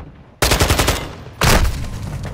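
Two loud, close shotgun blasts in Call of Duty: Modern Warfare II, one second apart, each a sharp boom with a rattling tail.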